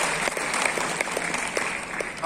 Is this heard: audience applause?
yes